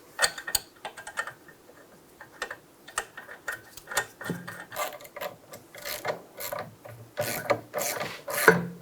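A nut on the rear shock absorber of a 2011-2014 Hyundai Sonata being snugged down by hand, with irregular metallic ratcheting clicks and rubbing bursts that come close together.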